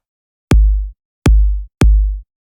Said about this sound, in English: So the initial kick sounds like this.